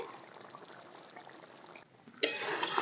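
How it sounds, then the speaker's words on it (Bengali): Ghee poured over a potato and paneer curry with garam masala, a soft liquid trickle followed by a sudden louder hissing sizzle as it hits the hot pan. "ওপর থেকে একটু গরম মশলা ঘি দিয়ে দিচ্ছি"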